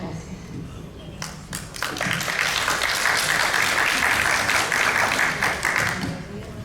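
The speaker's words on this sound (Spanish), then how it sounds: "palmas por favor para los doctores" Applause from an audience at a talk on medical certifications, starting after a few scattered claps and swelling into sustained clapping, then gradually thinning out.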